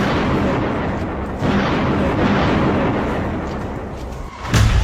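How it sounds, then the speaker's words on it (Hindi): Bombardment in wartime with artillery fire and explosions, a continuous roar of rumbling blasts and dense gunfire, rising into a heavier burst near the end. "बमबारी शुरू हो चुकी है।"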